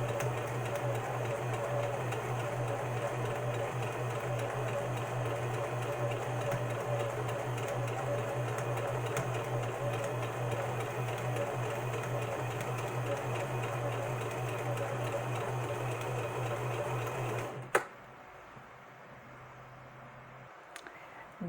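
Sewing machine stitching fabric at a steady, even hum for about seventeen seconds, then stopping abruptly with a click, leaving near quiet.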